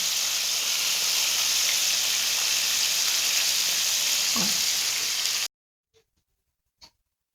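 Flour-coated chicken deep-frying in oil over a low flame, a steady close, bright sizzle and bubbling hiss that cuts off abruptly, followed by a couple of faint clicks in near silence.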